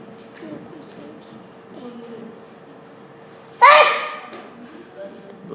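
A single sharp sneeze bursts out at close range during a geometry lesson on triangle and pyramid area, standing out loudly above quieter background murmur and a voice.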